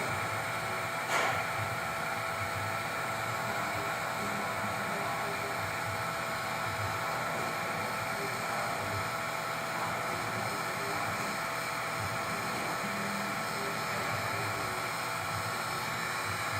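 Steady hiss and airy whir of a heat gun blowing hot air over shrink tubing on spotlight wires for a pinball machine, continuous and close with a small tap near the start.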